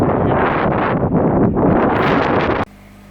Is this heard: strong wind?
yes